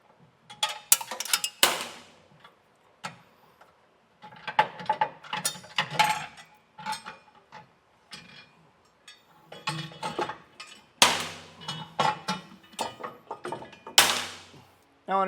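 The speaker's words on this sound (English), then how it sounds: "I'll push our carriage bolts out and it'll make it a lot easier." Carriage bolts are pushed out of a metal bracket while air helper springs are installed on a vehicle, heard as scattered metallic clinks, ratcheting clicks and knocks in irregular bursts with quiet gaps between them.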